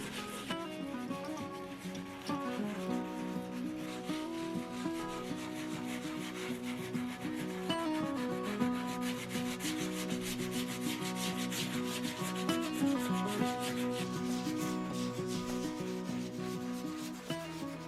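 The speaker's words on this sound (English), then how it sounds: "So I scuffed it up a pretty good bit, especially around the edges" Sandpaper scuffs a painted wooden checkerboard decor piece for a worn vintage look, a continuous, close back-and-forth rubbing that runs steadily without pause.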